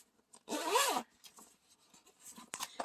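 A single quick zipper pull on a small dollar-store bag, a bright rasping zip lasting about half a second, followed by faint rustling and a second short scratch.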